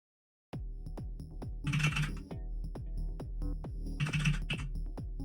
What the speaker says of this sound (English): you might hear me like drumming on my keyboard a little bit